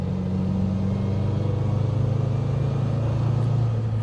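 A 1962 Alfa Romeo Giulietta Sprint Speciale cruising in fourth gear at part throttle: a steady, droning engine hum with low exhaust rumble, heard from inside the car at an even pitch and level, with no one talking.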